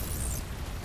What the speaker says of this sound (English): All I want to do is hit stuff with a frickin' ion cannon.